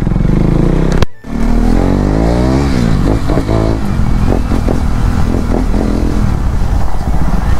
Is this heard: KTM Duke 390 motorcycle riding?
yes